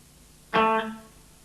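A single sustained electric guitar note, an A played on the treble pickup at full volume, enters a PCM42 modulated looping delay and rings with a bright harmonic stack that gradually fades without any talk.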